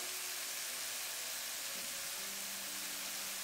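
Onions and spices fry in a hot wok, a loud, dense, continuous hiss of sizzling oil with a few faint tones underneath.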